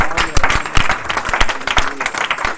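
An audience at a French-language church service applauds with loud, dense, rhythmic clapping that keeps going throughout, with faint voices mixed in under the clapping.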